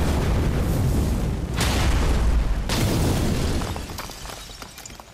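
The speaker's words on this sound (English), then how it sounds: "you shield charge destroyed the black crystal" Shield charge smashing a black crystal in the video game Marvel's Midnight Suns: loud, dense booming impacts with two sharp bursts in quick succession over a rumbling low roar that fades near the end.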